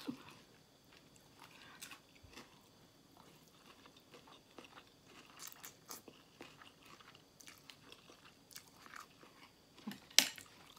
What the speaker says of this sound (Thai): กินไปคุยไปได้ไหมคะ